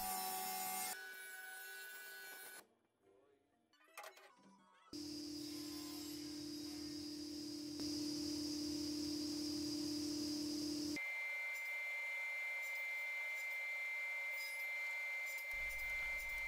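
A table saw slices walnut into strips in a workshop, giving a steady, loud whine and cutting rasp in several sections, with a brief quieter break between cuts.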